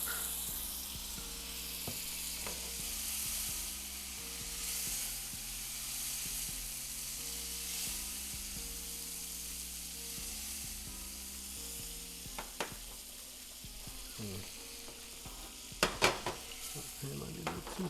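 A tablespoon of butter sizzles in an overly hot frying pan, a soft steady hiss close by with occasional clinks and scrapes of a utensil against the pan, louder sharp bursts toward the end.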